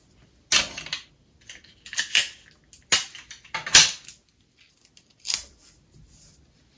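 Sticky tape pulled from a roll and pressed onto a fabric pattern for a Christmas stocking, several sharp close rips and crackles in short bursts separated by quiet.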